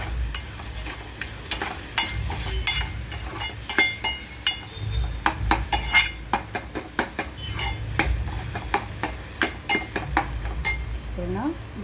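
Rice is stirred with turmeric in a pot for khichdi, with a low frying sizzle under rapid, uneven clinks and scrapes of a metal spoon against the pot.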